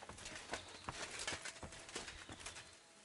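A black horse in Kingdom Come: Deliverance 2 on PS5, its hooves giving a quiet, steady clip-clop of rapid repeated knocks over faint ambient noise.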